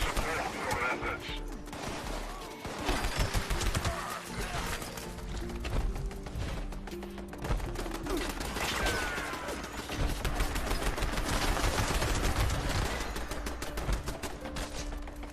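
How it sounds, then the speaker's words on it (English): Gunfire from enemies shooting at turrets in Fallout 76 rattles on and off as a dense, moderately distant barrage, with scattered impacts and clatter mixed through it. "They are shooting in my turrets."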